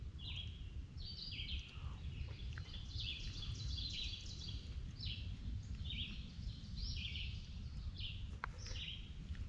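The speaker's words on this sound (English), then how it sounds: "Birds are singing, sun's shining." Birds sing and chirp around an Appalachian Trail campsite, scattered high trills and tweets at middle distance over a steady low rumble of background noise.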